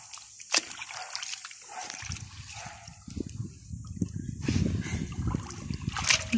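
Running water splashes and sloshes while wool is washed by hand, a close, continuous wet churning that grows fuller and louder partway through, with faint voices nearby.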